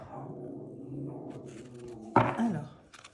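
Dogs whine and fidget restlessly in a room, giving soft whimpers and one sudden louder yelp near the end, all fairly faint.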